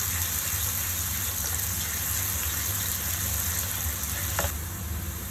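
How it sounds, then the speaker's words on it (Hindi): Onions frying in a pan until light golden for baingan bharta give a loud, steady, dense sizzle that runs unbroken from start to end with no voices. "प्याज को हम थोड़ा सा गोल्डन करेंगे, ज़्यादा गोल्डन नहीं करना, थोड़ा सा ही करेंगे"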